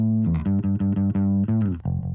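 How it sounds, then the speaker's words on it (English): Bass guitar through a SansAmp distortion, with a gritty edge, steady rhythmic notes played close and loud, ending on a sustained low note. "I got this Sans amp, just giving it a little bit of distortion."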